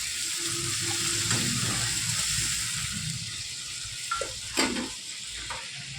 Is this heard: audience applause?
no